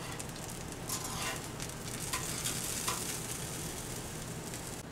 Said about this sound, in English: Now let's check our fish here. So, it's cooking very slowly here.